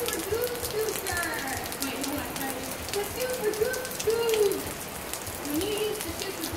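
Rain falls outside behind a house, a soft steady patter and hiss with birds calling faintly through it, continuous and moderately quiet.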